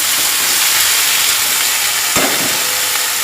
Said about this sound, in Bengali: পালং শাকগুলো দিয়ে একটু নাড়াচাড়া করে নেবো